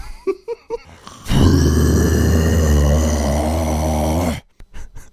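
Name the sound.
voice imitating a monster roar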